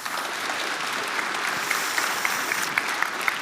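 Audience applause for the teams at the Space Resources Week 2025 closing ceremony, a steady, fairly loud clapping that holds for the whole stretch without pause.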